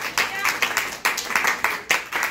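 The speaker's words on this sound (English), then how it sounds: "clap your hands and give God glory" A church congregation claps hands in a few loud, rhythmic bursts, close and distinct, each clap group rising sharply and then fading before the next.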